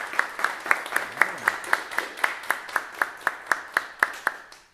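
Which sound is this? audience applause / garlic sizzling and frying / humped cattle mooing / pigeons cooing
audience applause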